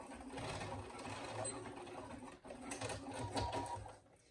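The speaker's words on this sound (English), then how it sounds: "we're just going to pull them up at a 90-degree angle, and we are going to baste these" A sewing machine bastes the zipper ends of a Magnolia wallet, its motor whirring in a steady, fairly quiet run of stitching with a short pause midway before resuming.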